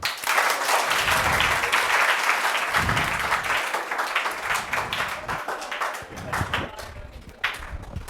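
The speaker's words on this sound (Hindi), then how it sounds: "तालियां एक बार" A school honouring ceremony for selected students fills with audience clapping, sustained and fairly loud, a few nearby claps sharp and distinct, thinning slightly toward the end.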